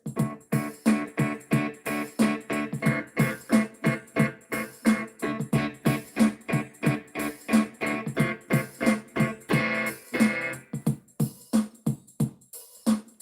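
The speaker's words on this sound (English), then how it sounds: "so it's not a grand piano but a clavichord." A keyboard set to a clavichord sound plays a rapid, even run of plucked notes with a bright, twangy attack, steady rhythm and a short flourish near the end, with no talking.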